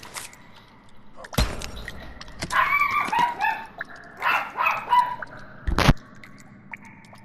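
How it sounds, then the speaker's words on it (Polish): A dog in a home bedroom gives a series of short, high barks and yips at mid distance, broken by a couple of sharp knocks, in an otherwise quiet room. "Tu mój pies warcza, bo ktoś wchodzi do mojego pokoju."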